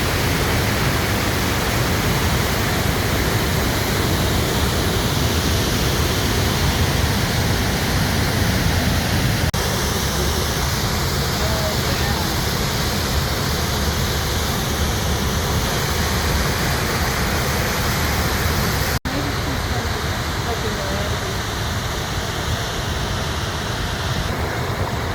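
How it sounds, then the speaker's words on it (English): Powerful class 5 waterfall along the Icefields Parkway in the Canadian Rockies roars as a steady, dense broadband rush, loud and unbroken throughout with no voices. "they are ranked in the most powerful waterfalls in Canada."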